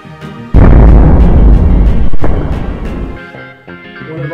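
A hydrogen-filled balloon, inflated with gas from a sodium hydroxide and aluminum reaction, bursts indoors in one sudden, very loud boom that rolls on and decays over a few seconds, with a sharp crack partway through.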